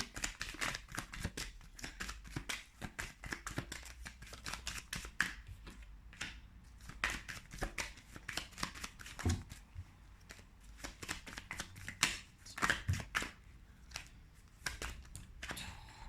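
Tarot cards shuffled by hand, a quick run of crisp riffling slaps and flicks repeating throughout, fairly close and steady, with no one talking.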